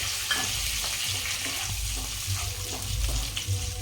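Curry leaves and peanuts fry in hot oil in a pan for sabudana khichdi, giving a steady, close sizzle with crackling and faint stirring scrapes throughout.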